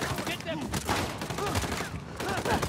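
Rapid gunfire from the video game Uncharted: The Lost Legacy crackles in quick repeated bursts across the whole span, mixed with game noise and muffled voices.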